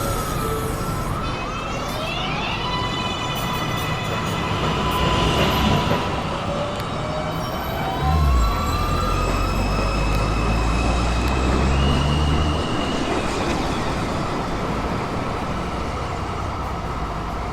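An NYC subway 2 train, Manhattan-bound, pulls out of the station with steady loud rumble, rising motor whine and squealing wheel tones, a deeper surge midway, with no talk.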